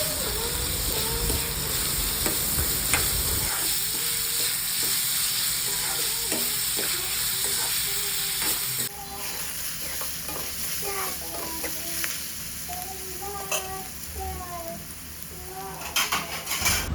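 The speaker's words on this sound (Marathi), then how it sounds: "दोन मीडियम आकाराचे कांदे घेतले चांगले बारीक कापून ते आपण ॲड करूया चांगला एकदम लाल होऊ द्या" Finely chopped medium onions frying in a pan for an egg curry, a loud continuous sizzle close up with stirring scrapes, a brief change in level midway, with faint speech in places.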